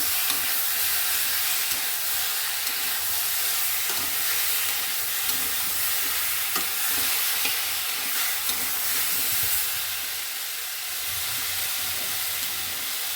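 Cauliflower frying with cumin, ginger, green chilli paste, turmeric and chilli powder, a steady close sizzle with occasional spatula scrapes and stirring, fading slightly near the end.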